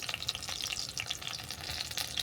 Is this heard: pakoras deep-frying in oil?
yes